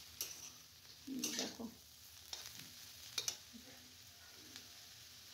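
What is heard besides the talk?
cabbage being stirred and fried in a pan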